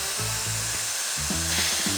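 A compact portable car gadget blower runs as a vacuum cleaner, giving a steady, loud, hissing whoosh of airflow with a droning motor hum whose pitch shifts as the suction changes.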